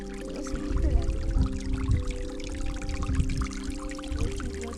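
Water trickles and flows steadily in a small stream on Horton Plains, where the Mahaweli River begins, a continuous close wash with no voices.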